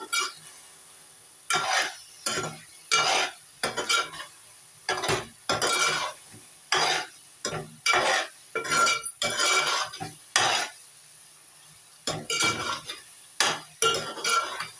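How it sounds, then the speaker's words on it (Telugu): A spoon stirs chili powder into a tomato and egg curry in a metal pot, giving repeated scraping, clinking strokes in irregular bursts, close and fairly loud with no talk. "మూడు స్పూన్లు వేసుకున్నా కారం కలిసేటట్టు కలుపుకోవాలి"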